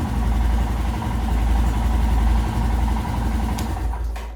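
A Royal Enfield Himalayan motorcycle engine idles steadily nearby, a loud, even low thump that fades slightly near the end.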